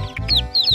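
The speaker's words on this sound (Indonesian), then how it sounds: "Wey, ayam rainbow lagi." A rainbow-colored chicken clucks in a few short, close, fairly loud bursts, with no voices present.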